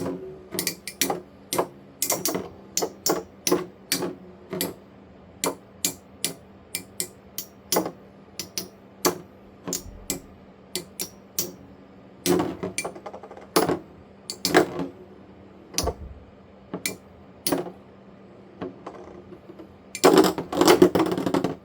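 Stock metal Beyblade tops clash in a tournament battle stadium, giving sharp irregular metallic clicks and knocks in bursts, building to a dense flurry of rapid hits near the end, with no voices.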